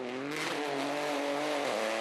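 Peugeot 208 Rally4 rally car driving on a hill road, its engine revving hard with rising and falling pitch, loud and continuous throughout.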